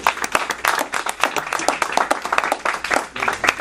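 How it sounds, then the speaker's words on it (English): Close, lively round of clapping from a seminar audience, individual hand claps distinct in a brisk irregular patter that continues steadily throughout. "Let's give them another round of applause."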